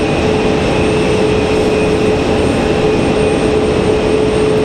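A jet airliner at stormy Raleigh Durham International Airport produces a loud, steady, broadband engine roar with a constant whine running through it, heard up close throughout with no talking.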